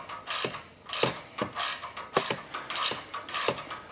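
A ratchet tool works on a Porsche Cayman in a garage, close and loud, with repeated quick rasping clicks in regular bursts about every half second.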